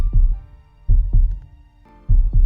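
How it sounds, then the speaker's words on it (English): Heartbeat effect from the visual novel Tsukihime: three deep, loud double thumps in a slow steady rhythm, each pair a low throb followed by a softer second beat, over a faint hum with no voices. "The heartbeat skips."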